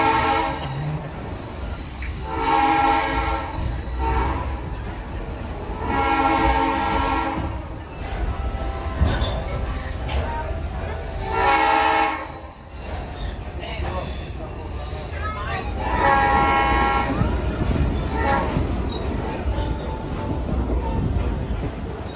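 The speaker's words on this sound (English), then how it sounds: "Back in the train and headed back north." Delaware River Railroad excursion train running near Phillipsburg, NJ, heard from on board: a constant rumbling roll with several drawn-out horn blasts sounding repeatedly over the track noise.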